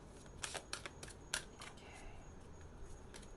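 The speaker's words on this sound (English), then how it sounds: "Let me just give these a nice shuffle just because." A deck of tarot cards being shuffled close up, giving a series of quick, crisp riffling bursts with short pauses in between, faint and alone with no talking.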